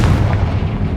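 A Confringo fire spell bursts in Hogwarts Legacy, a loud, dense booming blast that fills the whole second with heavy low rumble and no talking.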